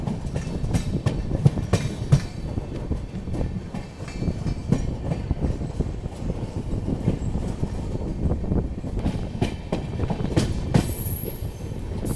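A passenger train, the Patna Express, rolls into Prayagraj station with a steady close rumble and rhythmic wheel clatter. Brief metallic squeals and clanks rise over the din near the end, with no talking.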